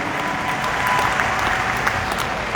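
An audience claps steadily at a motivational speech event, a dense, even wash of applause with no talking over it.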